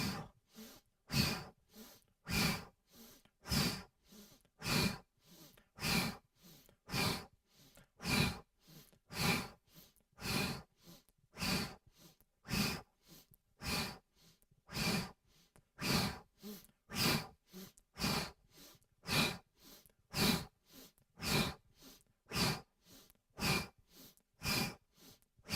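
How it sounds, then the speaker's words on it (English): Alternate nostril yoga breathing through the nose, a steady run of about thirty breaths. Each airy inhale or exhale rises and falls in an even rhythm, close and moderately soft, with no talking. "Inhale right, through the nose, exhale left."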